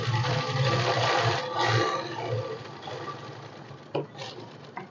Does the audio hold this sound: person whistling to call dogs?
no